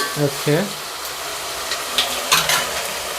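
Ginger paste, onion and curry leaves fry in oil with a steady soft sizzle, and a few scrapes of stirring come through; a voice briefly speaks at the start.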